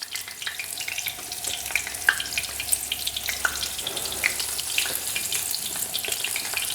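Veal cutlet frying in a pan, with a soft, steady sizzle and scattered crackling pops at moderate volume, no voices.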